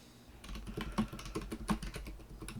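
Fingers type on a computer keyboard in an irregular patter of close, light key clicks, a few keys struck harder than the rest.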